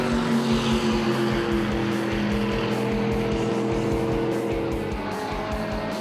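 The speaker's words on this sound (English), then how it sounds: "Adrenaline go through the twin turbo V10. Very distinctive engine note to that." A twin turbo V10 race car roars past loudly at a road race event, a dense, sustained engine drone with steady tonal harmonics filling the whole moment.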